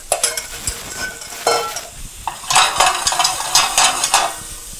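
Sweet potato, asparagus, zucchini and squash sautéing in a pan, caramelizing: a close sizzle broken by repeated scraping stirs and clatters, growing busier toward the end, with no voices.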